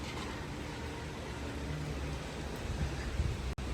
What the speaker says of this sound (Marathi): वादळ सुटलं आहे पाऊस पडतो भरपूर